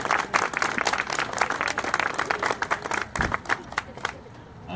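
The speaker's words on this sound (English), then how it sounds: "Let's give her another round of applause." Audience applause at a fundraising walk event for a pregnancy care charity, brisk, full clapping that thins out into scattered claps and dies away toward the end.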